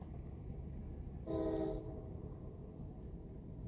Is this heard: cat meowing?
no